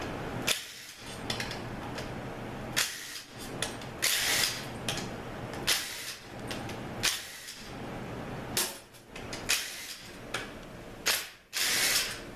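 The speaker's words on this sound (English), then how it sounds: "Alright, so we're pretty much just going to take all the 10 bolts out." A ratchet loosens bolts on a Mazda FN4AEL automatic transmission valve body, clicking in quick bursts separated by short pauses. Close and steady, with occasional metallic handling noises between the runs.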